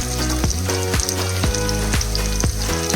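Drumstick pods fry in a pan with spice powder, giving a loud, continuous sizzle with regular scraping stirs; no voices.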